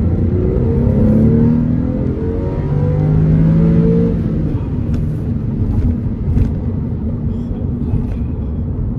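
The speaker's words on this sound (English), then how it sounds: "Here we go, give it a little gas." A 2002 Porsche 911 Carrera with a six-speed manual accelerates, its engine a loud, steady, close rumbling drone with rising tones for about nine seconds and no talking.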